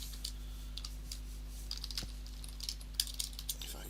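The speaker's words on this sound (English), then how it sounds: "if I can type" Keys tapped on a computer keyboard while entering data, a quiet, irregular run of light clicks with small bursts of faster keystrokes, close up against a steady low electrical hum.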